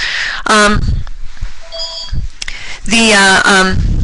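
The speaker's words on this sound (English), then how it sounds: "excuse me, that's my other phone. We'll just let it go to voicemail." A second phone rings twice during an online webinar talk, two loud bursts of electronic ringtone a few seconds apart, with someone speaking briefly between the rings.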